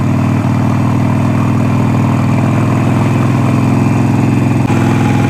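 A Harley motorcycle cruising along the Crater Lake rim road, a loud, steady low engine drone with a thrumming exhaust rhythm and wind rush, heard close throughout without speech.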